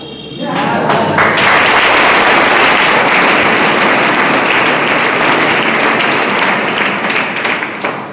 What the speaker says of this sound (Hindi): आप ताली बजा दिए